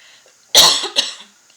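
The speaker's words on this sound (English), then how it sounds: "I don't usually cough in my videos" One sharp, close cough followed by a smaller second hack, loud against an otherwise quiet room.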